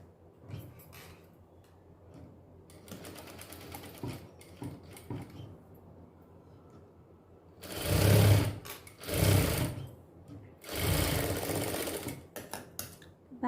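A sewing machine stitches a miniature doll dress in short bursts, a loud rapid mechanical whirr starting and stopping between quieter handling sounds.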